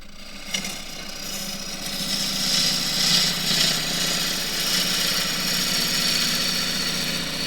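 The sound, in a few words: wood lathe turning a rectangular bowl, cutting blue gum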